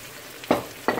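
Tinned mackerel and vinegar go into a hot frying pan for a Jamaican-style dish, two short bursts of sizzle and clatter sounding close over a quiet background.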